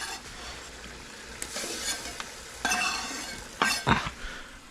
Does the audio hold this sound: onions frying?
yes